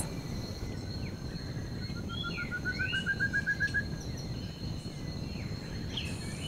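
Antbirds call in a rainforest: a quick run of bright, evenly spaced notes rises mid-way, set against a steady hum of insects and forest background.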